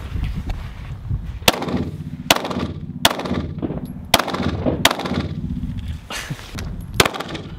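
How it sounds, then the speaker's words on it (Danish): Desert Eagle pistol fired at a shooting range: six or seven sharp, loud cracks spaced about a second apart, each ringing out briefly, over steady background noise with no talk. "Hvor mange skud har du skudt allerede?"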